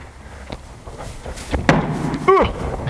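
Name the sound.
hands slamming down during a badly done parkour kong vault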